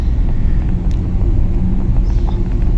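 Steady road traffic idling and rumbling at a Mumbai signal near a residential area, low engine drone close by with a few faint horns, no talking.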